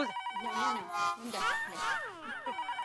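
A telephone ringing in a household comedy scene, a repeating electronic ring tone with rising and falling melodic pulses, mixed with voices talking over it.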